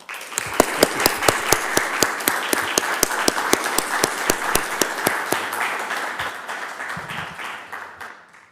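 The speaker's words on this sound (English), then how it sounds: "Let's give a round of applause." Sustained applause from a conference audience, dense rapid clapping at steady loudness that tapers slightly near the end.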